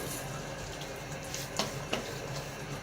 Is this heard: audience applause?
no